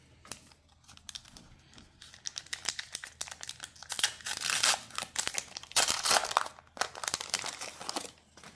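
Topps Match Attax 25/26 football card packs torn open by hand, with close crinkling foil wrappers and bursts of ripping that grow louder midway, heard without talk.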